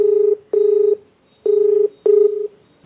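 Telephone keypad tones as a call is placed: four steady beeps of a DTMF-style dial, each about half a second long, clear and close with short gaps and no talking.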